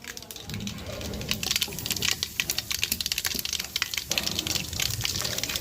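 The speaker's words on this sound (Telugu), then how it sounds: "తర్వాత తాలింపు గింజలు వేసేసుకుంటే పటపట ఆడుతున్నాయి" Tempering seeds spluttering and popping in hot oil in a home kitchen: a dense, steady run of rapid, irregular crackles and sharp pops, close and fairly loud, with no talking.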